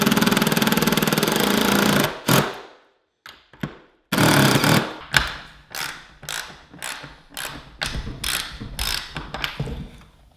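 A power drill forces its way through a stubborn hole in a DIY workbench. Loud grinding bursts start and stop, then give way to a string of short ratcheting jolts that get gradually fainter.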